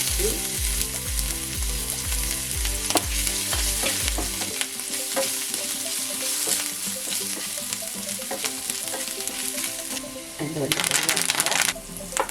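Fennel seeds, garlic and ginger fry in the oil left from frying brinjal, with a steady hiss and a spatula scraping and stirring in rhythmic strokes, then a brighter crackle near the end.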